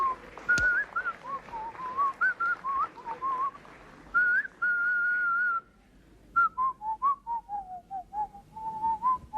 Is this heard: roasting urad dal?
no